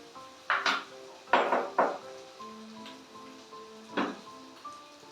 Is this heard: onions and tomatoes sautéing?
yes